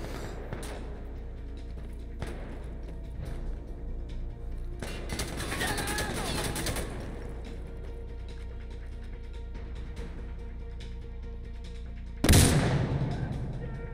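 Gunfire in Insurgency: Sandstorm hardcore checkpoint play on Xbox Series X, heard as scattered distant shots and mechanical clatter over low ambience. Near the end, one loud close blast stands out.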